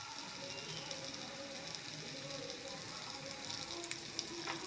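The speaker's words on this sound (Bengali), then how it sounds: "এরপর পেঁয়াজ টমেটো কাঁচা লঙ্কাটাকে এই সমস্ত মশলাগুলোর সাথে ভালো করে নেড়ে চেড়ে এভাবেই কষিয়ে নেব।" Onion, tomato, green chili and ground turmeric, chili and cumin sizzle steadily in a pan for an egg soyabean curry, a dense close hiss with faint scraping as the mixture is stirred.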